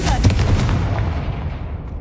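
Confringo explosive spell going off in the video game Hogwarts Legacy, a single loud boom up front that decays into a rumbling tail over a couple of seconds.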